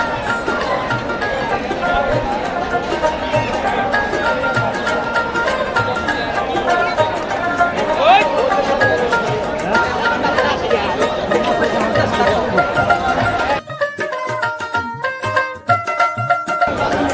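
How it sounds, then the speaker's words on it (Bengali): Continuous, close crowd chatter and bustle rise from the busy Karatia weekly haat in Tangail, a market selling livestock and poultry, with the babble thinning briefly near the end. "হাটটির মধ্যে মানুষের ভিড় কোলাহল সবসময় বেজেই থাকে"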